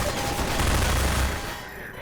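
Dense, loud gunfire crackles throughout a brief burst of combat in the video game Half-Life 2, heavy and continuous with no talking.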